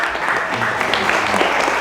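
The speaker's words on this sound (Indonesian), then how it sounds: "kita berikan tepuk tangan dulu untuk adik kita." An audience at a Maulid Nabi celebration in Indonesia applauds a child, a close, fairly loud round of steady clapping with a murmur of voices beneath it.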